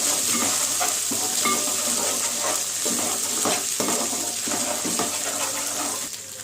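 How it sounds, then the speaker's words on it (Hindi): Finely chopped coriander, mint and green chillies sizzle and crackle as they are stirred in a hot pan, a steady close-up frying hiss with scraping strokes and no talking. "अब इसी के अंदर हरा धनिया डाल दीजिए, बारीक कटा हुआ कोतमीर, पुदीना, हरी मिर्ची"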